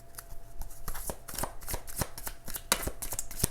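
A deck of tarot cards being shuffled by hand, a steady run of quick papery riffles and soft slaps, close and alone with no voices.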